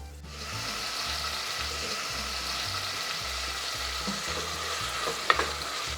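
Mixed chopped vegetables, including carrots and peas soaked in water, are stirred in an electric rice cooker with a steady gentle sizzle and repeated soft scraping strokes, plus a sharp clink near the end.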